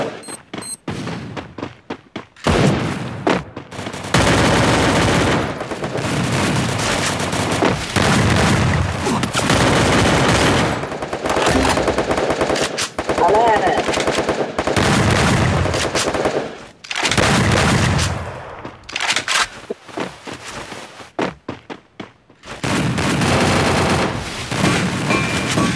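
Rapid automatic gunfire bursts from a mobile shooting game, loud and nearly continuous with brief pauses between volleys and a few heavy booms, no talking.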